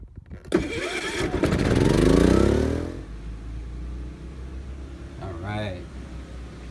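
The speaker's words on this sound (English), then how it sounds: "So the next step is to get my generator out." A portable generator for an RV air conditioner starts up with a loud pull and rising engine roar, then settles into a steady running hum that continues to the end.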